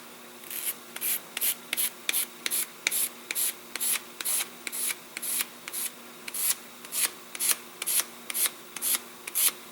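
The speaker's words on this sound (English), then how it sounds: "There's a burr right here that has to be sanded off." Steady back-and-forth sanding strokes rasp across a burr on a balsa model aircraft part for a Keil Kraft Senator build, about two dozen short close strokes in an even rhythm with no talk.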